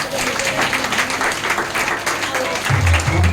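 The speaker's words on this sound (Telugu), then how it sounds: "భోజనాలు బాగున్నాయన్న వాళ్ళు గట్టిగా చప్పట్లు కొట్టండి" A congregation at a watch night church service claps loudly and continuously, with voices talking over the applause.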